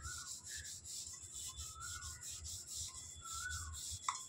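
Close rhythmic rubbing as a copper item is scrubbed with metal cleaner, a soft repeated scraping swish in even strokes, quiet and alone.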